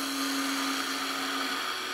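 A bowl gouge cutting a spinning wood goblet on a lathe gives a steady, loud, even whir and hiss with a constant motor hum, unbroken for the whole stretch and with no talking.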